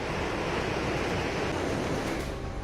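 High waves pounding the coast during Cyclone Yaas in Odisha and West Bengal, a dense, loud, unbroken roar of surf mixed with wind noise and no voices.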